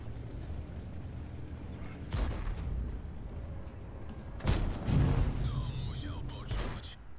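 Tank cannon fire in a World of Tanks-style game with the twin-barrel Object 703: a few heavy booming shots a couple of seconds apart, each followed by a rumbling tail, set against a constant engine drone.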